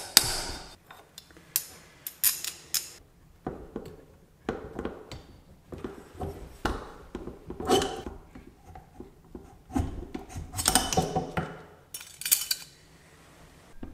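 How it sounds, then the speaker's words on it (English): Wrenching out two bolts that hold the clutch cable holder on a Yamaha XT225 motorcycle, giving sharp intermittent metallic clicks and scrapes in uneven bursts, close by, with no talking. "Gotta undo these two bolts and get rid of this clutch cable holder."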